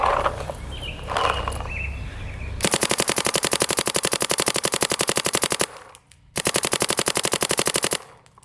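A paintball marker fed by a Virtue Spire 4 hopper fires at 30 balls per second. Two long, loud bursts of rapid, evenly spaced shots are split by a brief pause, with no talk.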